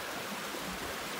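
Wilson Creek, a water source along the Appalachian Trail, flows with a steady, fairly loud rushing babble close by, continuous and without any voices.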